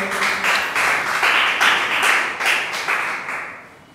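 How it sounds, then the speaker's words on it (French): A church congregation claps and applauds in a rhythmic, fairly loud wave of hands that swells steadily and then fades toward the end. "Acclamons pour la parole du Seigneur."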